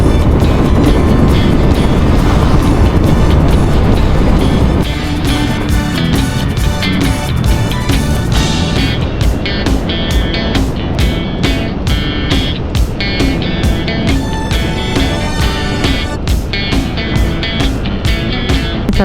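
A motorcycle cruises along an open provincial highway in the Philippines, giving a continuous loud engine and wind roar. The tone changes partway through, and rhythmic buffeting fills the later part.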